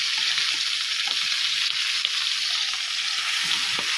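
Scotch fillet steak frying in oil in a hot pan, a steady close sizzle and crackle with small pops throughout, no talking.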